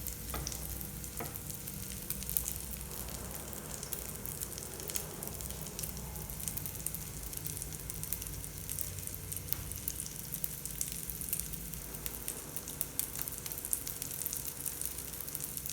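Egg omelette with onion and mint frying in a pan, a continuous close sizzle and crackle of hot oil holding steady throughout with no voice over it.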